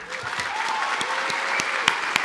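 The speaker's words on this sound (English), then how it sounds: "please join me in the first of many rounds of applause for our next Citizen of the Year, Mr. Robert" Audience applause at an award ceremony, dense enthusiastic clapping from a seated crowd filling the room, loud and sustained, with a few sharper individual claps standing out near the end.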